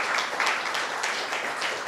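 A short round of audience applause at a university talk on cannabis and young people, brisk even clapping from a crowd, fairly close and steady.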